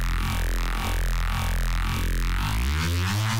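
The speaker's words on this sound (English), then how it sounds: "I actually really like this Reese" A thick, detuned Reese bass from the Phase Plant preset "Raising the Dead", combining a wavetable with a saw wave, drones loud and continuous with a slow sweeping phasing movement and a steady pulsing low end underneath.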